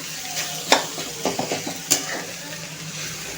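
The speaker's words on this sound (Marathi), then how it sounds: "भाज्या आणि नूडल्स मिक्स करून घेऊया छानपैकी" Street-style chicken noodles and vegetables stir-fried in a pan, with a soft sizzle under scraping and tossing, a few clinks of a utensil against the pan, close and fairly quiet.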